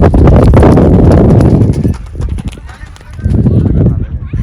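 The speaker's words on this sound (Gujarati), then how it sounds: "તો આ બધી ઘોડીઓ છે અહીંયા" Several mares' hooves clip-clop loudly and close at a gathering of old horse riders, a steady clatter that fades briefly mid-clip before resuming, with faint voices in the background.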